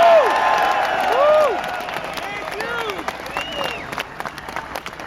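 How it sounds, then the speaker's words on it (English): Applause for veterans at a speech in Albany, New York: a crowd claps in a dense, loud wash that gradually thins, with whistles and cheers rising over it. "A round of applause for those vets out there today."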